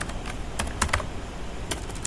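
Keys tapped on a computer keyboard while a Java environment variable is set up, with a few sparse, close clicks and short bursts of typing.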